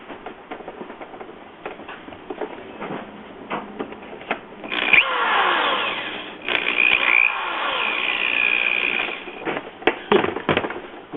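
Power drill boring into the bottom of a plastic Stormtrooper helmet held against a table, a whining, grinding bite rising in the middle after scattered handling clicks and knocks, near and loud.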